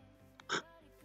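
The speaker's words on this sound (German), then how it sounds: "Ah, hier ist noch ein Schwein." A pig in the video game Minecraft gives a single short, nasal oink over a soft, steady game music bed.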